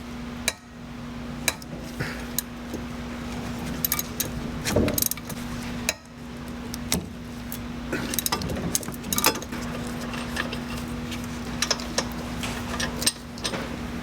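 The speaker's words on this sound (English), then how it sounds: "there's going to be 2 retaining bolts for the hub through the spindle. You're going to get a 15 to free those up." A 15 mm wrench works loose the hub retaining bolts through the spindle on a Volvo XC70, giving repeated ratcheting clicks and metallic ticks under a steady hum, with a few sharper clanks of tool against metal.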